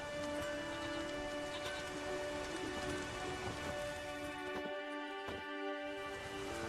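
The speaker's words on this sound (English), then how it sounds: "There's no point standing here in the rain." Steady rain patters down in The Witcher 3 video game, a dense continuous hiss of drops over a low droning ambience, with a few sharper splashes late on and no voices.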